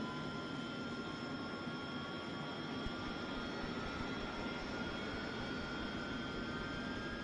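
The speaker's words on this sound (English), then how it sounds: "Let's wait first for the engine to spool up." Harrier AV-8B jet engine spooling up during a night operations start in the DCS flight simulator, a steady broadband roar with rising whine tones, constant and loud throughout with no talk.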